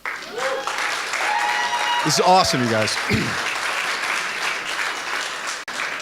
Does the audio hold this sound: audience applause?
yes